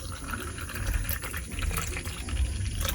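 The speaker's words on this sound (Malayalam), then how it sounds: "നാരങ്ങ വെള്ളം ഇവിടെ റെഡി ആയിട്ടുണ്ട്. നമുക്ക് ഗ്ലാസ്സിലോട്ടൊന്ന് ഒഴിച്ചു കൊടുക്കാം." Lemon juice made with coconut milk is poured into a glass, giving a steady, close liquid pour with continuous splashing and gurgling throughout, and no talking.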